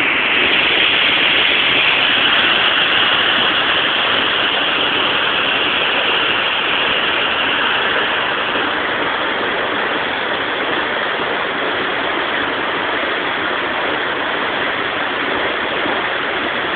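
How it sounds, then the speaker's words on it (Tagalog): Nalbuntulan Falls on Mt. Isarog roars steadily as a loud, unbroken wash of falling water, with no pause or voices throughout. "Ito ang tinatawag na Nalbuntulan Falls. Pangalawang falls ng Isarog."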